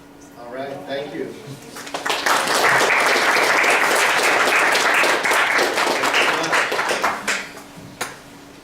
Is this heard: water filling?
no